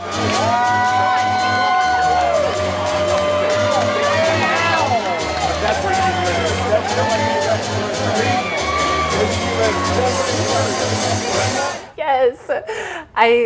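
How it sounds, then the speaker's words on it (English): A loud crowd cheers and whoops at a Fashion for Hope show in Orlando, with shouts and excited voices over a steady din and music, ending with a few abrupt bursts. "There was a lot of people cheering."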